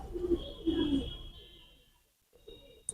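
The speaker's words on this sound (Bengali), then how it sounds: "এটা হচ্ছে সাকি টেডি নর কবুতর" A Saki Teddy male pigeon gives close, low rolling coos in a couple of bursts, separated by a brief quiet gap.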